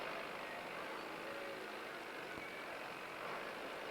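A dairy farm tractor engine running at a steady low rumble, continuous and moderately distant, with no voices.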